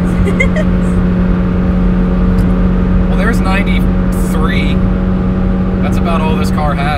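A Honda car accelerates at full throttle from inside the cabin, a loud, steady engine drone with a constant low hum and rising whine, while people talk over it.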